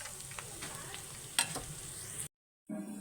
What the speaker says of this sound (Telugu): నేను ఇప్పుడు దీనిలోకి కరివేపాకు నూనె అల్లం యాడ్ చేస్తున్నాను